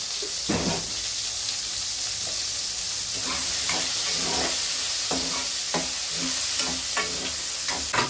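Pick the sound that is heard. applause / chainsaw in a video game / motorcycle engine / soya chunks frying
soya chunks frying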